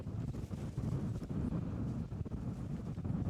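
Strong wind buffeting the microphone at an outdoor ultimate frisbee game, a continuous low rumbling roar with uneven gusts, loud and close, no clear talk.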